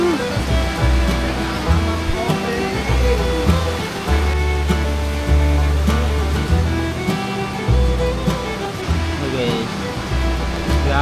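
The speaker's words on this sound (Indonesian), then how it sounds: "Dan akhirnya kami pun sampai di air terjun." A hidden waterfall roars steadily with a broad, continuous rush of falling water, while low rhythmic tones and other sounds layer over it.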